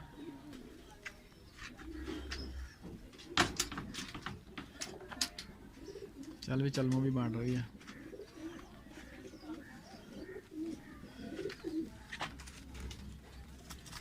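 Pigeons coo softly in the background beneath ongoing conversation, with scattered clicks and shuffling; one louder, sustained coo stands out briefly near the middle.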